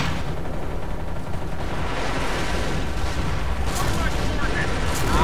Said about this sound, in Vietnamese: pháo cho nó bắn trung về một phía thôi